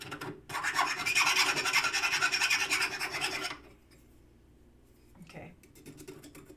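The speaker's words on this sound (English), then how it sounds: "We're going to file this just to get all those burrs off." A metal file rasps steadily across an edge to remove burrs, a close, loud scraping run lasting a few seconds before it stops, followed by quieter handling.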